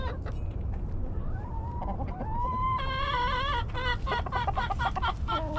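Chickens cluck and squawk in a new chicken yard during the integration of two flocks, a close, busy run of overlapping calls rising into louder, rapid clucking, with no one talking.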